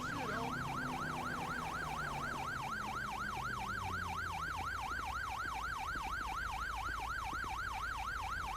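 An ambulance siren wails in the game GTA 5, a steady fast up-and-down electronic warble repeating throughout, loud and close over low engine rumble, with no talk.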